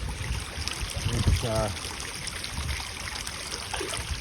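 Shallow stream water trickles and flows around someone standing barefoot in it, a steady close wash of water with a brief voice speaking partway through.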